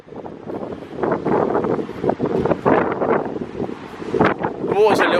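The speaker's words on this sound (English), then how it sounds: "but it is quite windy around here." Wind gusts over a rough sea at a Bridgetown, Barbados port, a steady roaring buffet of wind noise on the microphone running throughout, with a voice talking over it.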